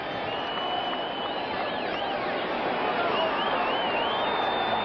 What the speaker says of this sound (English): Crowd for the first time tonight, and it's a sellout crowd here at San Diego, is getting into it.